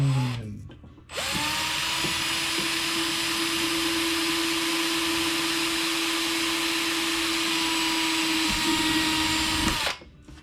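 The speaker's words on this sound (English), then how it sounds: "got all our holes drilled" A power drill bores holes for an X Maxx roof rail install, its motor whirring loud and steady for about nine seconds before spinning down, with no talk over it.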